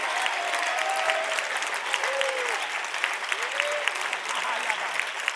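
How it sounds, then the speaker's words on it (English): A church congregation claps steadily during a sermon, a continuous wash of handclaps with scattered voices and shouts rising over it throughout. "will you clap your hands and shout amen?"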